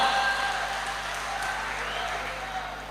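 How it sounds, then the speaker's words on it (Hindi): A live audience at a Hindi comedy poetry show claps with raised hands in sustained, fairly even applause, with voices carrying over the top. "तालियां जरा दोनों हाथ ऊपर उठाकर मिलके बजे"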